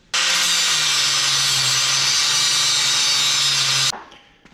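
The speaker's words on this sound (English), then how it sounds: "I just thought it'd be easier to grab the old grinder and just cut it right off" An angle grinder cuts off the stud of a failed ball joint, a loud continuous high-pitched grinding whine with a steady motor hum beneath, running nearly four seconds before stopping abruptly and winding down.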